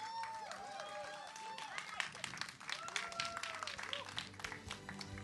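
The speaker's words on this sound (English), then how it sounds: "A big round of applause for the trailer." A crowd at the Dilwale film trailer launch event claps and cheers under excited voices and whistles, a lively mix of applause and chatter throughout.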